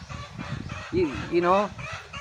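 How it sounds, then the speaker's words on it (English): A chicken clucks in a couple of short rising calls, fairly close and loud, with indistinct talk and background noise around it in the Philippines. "that's a chicken"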